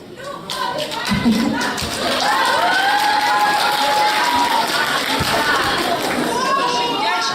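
A crowd at a New Year's costume event claps and cheers loudly to vote for the best costumes, with a steady wash of applause and shouting voices while a host speaks over it.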